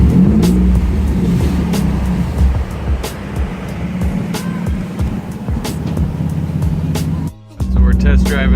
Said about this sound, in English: So we're test driving the 350.